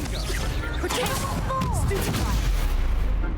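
Fireworks in a video game crackle and bang in quick overlapping bursts, loud and continuous across the short stretch, with whistling streaks between the pops.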